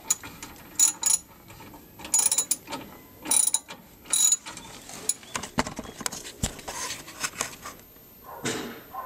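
A socket ratchet clicks in short bursts while undoing a bolt underneath a Mk3 Cortina estate, four or five quick rattling runs close by, followed by clanks and shuffling of tools.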